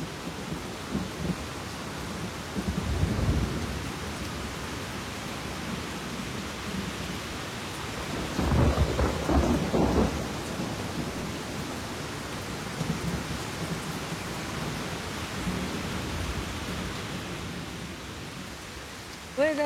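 Steady heavy rain pours in Hawaii while low thunder rumbles through the storm, swelling into a louder roll midway before settling back into the constant hiss of rainfall.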